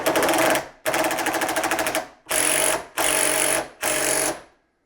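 A brushless DeWALT power tool with a repaired motor circuit whirs up quickly in five short, loud bursts of high-speed motor whine with brief pauses between them, close by.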